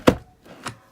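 Planner hole punch forced through thick paper, one sharp close thunk followed by two softer clunks as the mechanism presses and releases.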